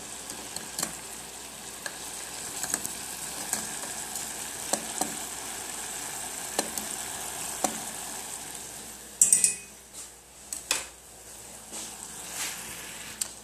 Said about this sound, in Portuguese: pega essa faca da sua mãe e dá uma mexida assim